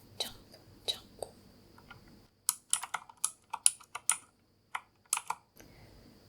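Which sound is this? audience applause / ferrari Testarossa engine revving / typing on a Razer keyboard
typing on a Razer keyboard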